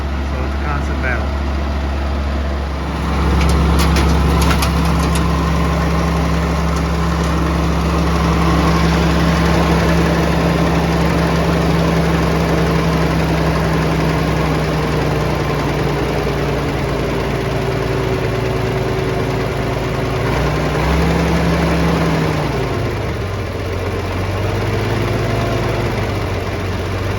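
A vintage Allis Chalmers TL-14 loader's engine idles steadily and loudly for the whole stretch, a low continuous rumble whose pitch dips and recovers as the idle is backed off, with someone talking over it.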